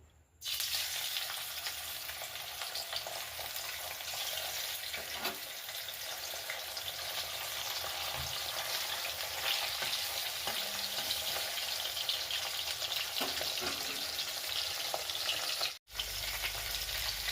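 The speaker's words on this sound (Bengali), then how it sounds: "মাছগুলোকে ছাকা তেলে প্রথমে ভেজে নিতে হবে" Small mourola fish deep-frying in plenty of hot oil give a loud, steady, crackling sizzle that runs unbroken for many seconds, with faint scrapes beneath and a short dip in the sound near the end.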